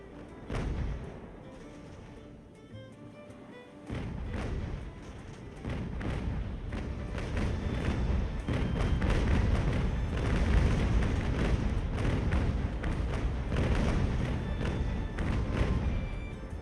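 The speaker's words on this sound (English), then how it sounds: "We try and grape shot the sons of guns" Ship cannons firing grapeshot in a naval battle in Ultimate Admiral: Age of Sail, a dense run of booms and thuds rolling into a continuous loud barrage after a brief quieter start.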